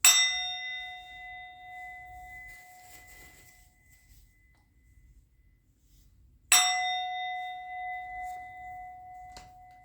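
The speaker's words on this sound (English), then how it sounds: "I'm going to ring the bell." A small metal bell is struck twice, each a bright, ringing clang that decays slowly over several seconds, with quiet gaps between the strikes.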